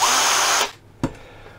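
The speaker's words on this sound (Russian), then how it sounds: "шуруповерт." A two-speed cordless drill-driver runs at a steady high-pitched whine, then winds down and stops, followed by a single short click or knock.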